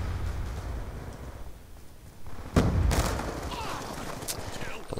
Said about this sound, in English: It's refreshing to use a 3-round burst gun once in a while.